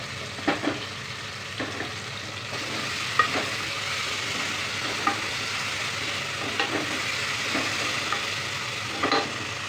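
Tomatoes and ginger paste fry in a pan for spicy gongura chicken, giving a steady close sizzle broken by repeated spatula scrapes and taps, with no talking.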